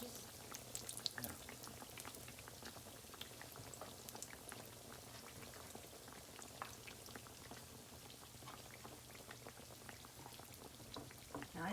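Fry bread dough sizzles in hot oil in a pan, a faint, steady crackle of popping bubbles that continues throughout without a break.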